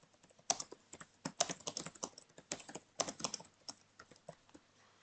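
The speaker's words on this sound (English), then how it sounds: "if I type anything," Keystrokes on a computer keyboard while text is entered into a browser-based React text-to-speech app, a fast, uneven patter of close clicks in short bursts with brief pauses, no voices.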